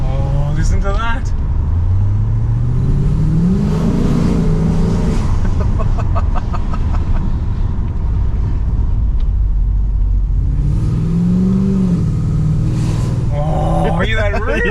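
A loud rebuilt V8 engine in a Holden VX Commodore SS rumbles and revs in two bursts, each climbing then falling back, while someone talks over the noise.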